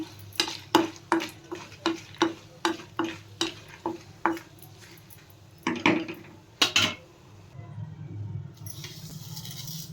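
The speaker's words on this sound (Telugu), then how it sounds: "ఇలా దోరగా వేయించుకోవాలండి ఎండు మిరియాలు" Dried black peppercorns are dry-roasted in a pan for Andhra-style gongura chutney, a rapid run of about a dozen sharp, rhythmic scraping and clinking stirs, then a few louder clatters before a quieter tail.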